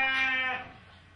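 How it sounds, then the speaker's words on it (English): A single sheep at a county show gives one clear, nasal bleat that lasts about half a second and then tails off, heard close by with no talking. "and some pretty familiar breeds of sheep."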